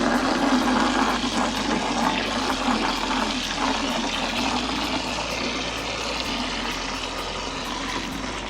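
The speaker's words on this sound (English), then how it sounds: "I'm not gonna fill this can all the way up this time." A watering can being filled about halfway, roughly a gallon of water, for a garden: a steady, continuous rush of running water, close and fairly loud, with no talking.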